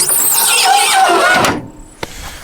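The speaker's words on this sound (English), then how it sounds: "Squeaky bonnet again." A loud, drawn-out metallic squeal of a car bonnet hinge rising and bending in pitch, then cutting off, followed by a soft thud, on an old wrecked European car.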